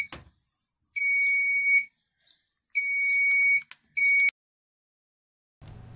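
A 220 V industrial indicator buzzer sounds in three sharp, shrill electronic tones, two longer bursts and a short one, separated by silence, loud and clear with nothing else beneath.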